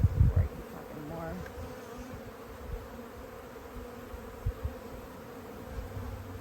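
A honey bee colony buzzes in a low, constant drone from an opened beehive during a late-winter inspection, with a few soft bumps and handling thuds near the start and scattered through.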